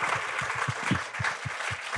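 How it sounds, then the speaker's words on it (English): Studio audience applauding a show's crew at a live taping in New York City, a steady wash of clapping with a few louder low thumps, fairly close and continuous. "Please, guys, round of applause for my crew."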